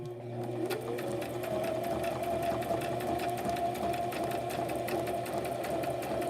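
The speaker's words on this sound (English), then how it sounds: "So I do a zigzag stitch all the way down." A sewing machine runs continuously through a zigzag stitch on a soft cover made from an Amazon mailer, its rapid mechanical ticking and motor hum steady and close.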